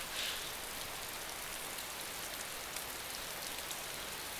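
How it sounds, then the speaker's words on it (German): Steady rain in the video game DayZ patters evenly without a break, a soft, constant hiss of drops with no voices. "also so das Geräusch vom Regen"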